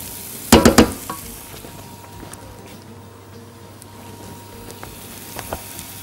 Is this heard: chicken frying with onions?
yes